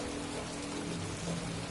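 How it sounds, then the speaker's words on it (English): Rain falls in the video game Heavy Rain, a steady broadband hiss of downpour with a low rumble underneath and no speech. "Wait here in the rain."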